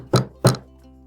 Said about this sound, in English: Just then she heard a thump on the door.